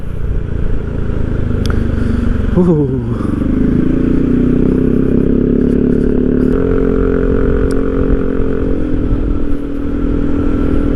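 A motorcycle engine roars close up as the rider accelerates, its pitch climbing then settling into a steady loud drone with wind and road noise.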